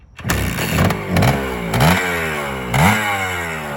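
A cold 1976 Kawasaki KE 125 motorcycle, a small two-stroke trail bike, starts on choke and is revved up in several rising and falling surges. The engine is loud and close, with no talk over it.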